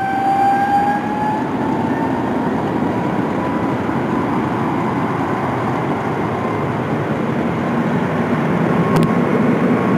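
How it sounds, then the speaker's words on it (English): A Boeing 777 aborting its takeoff with full rudder applied, heard as a loud, steady roar of jet engines and rushing air that holds unbroken for about ten seconds, with a brief sharp burst near the end. "This Boeing 777 aborting its takeoff and applying full rudder."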